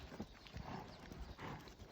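A horse's hooves clip-clop at a steady trot during a light training session in Parque Guarani, several even beats fairly faint and a little distant, with soft outdoor background noise.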